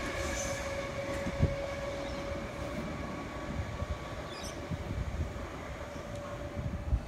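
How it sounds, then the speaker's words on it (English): Sydney Trains V-set passing through platform 1 at Redfern Station, a steady rolling rumble and rail hum that holds throughout, with faint wheel squeals and clicks over the track, near and continuous with no talk. "we have a V-set about to pass through platform number 1"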